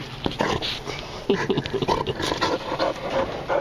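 A dog pants hard and rapidly, close to the microphone, with high whimpers and whines mixed in throughout, outdoors near an aquaponics setup.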